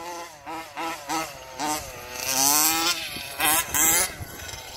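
The gas engine of a Losi 5T RC truck revs on a track in repeated short bursts, rising and falling in pitch, then holds a longer buzzing howl before a few more sharp revs, loud and close.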